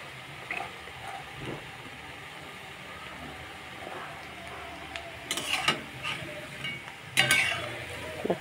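Pakoras of seche greens fry in hot oil with a low, faint crackle, and a couple of louder scraping, stirring bursts come near the end.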